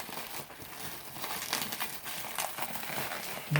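Bubble wrap packaging crinkles and rustles continuously as it is handled, a steady close-up crackling texture with a few slightly louder crunches.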